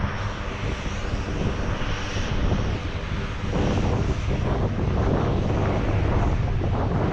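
A C-130 military transport plane sits parked while its engines run, a loud, steady drone with wind buffeting the microphone throughout and no talk.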